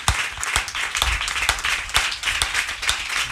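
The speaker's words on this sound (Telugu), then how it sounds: "గట్టిగా చప్పట్లు కొట్టి దేవుణ్ణి ఆమెను మహిమపరచుకోవాలి హృదయం." A congregation claps loudly in praise at a church service. The claps are sharp, forceful and fairly regular, and they continue steadily with no speech heard.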